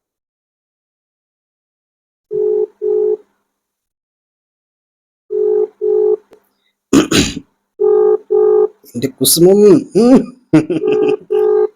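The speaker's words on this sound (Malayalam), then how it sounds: "ഫോൺ എടുക്കാൻ നോക്കാം" A phone call rings out in repeated paired ringback tones with silent gaps, a clear close electronic burble, interrupted midway by a cough and a brief spoken word before the ringing resumes.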